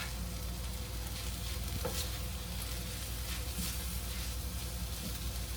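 Cheesesteak meat sizzles steadily in oil in a pan while being stirred, a constant dense frying hiss with soft scraping from the stirring, close and moderately loud, no talking.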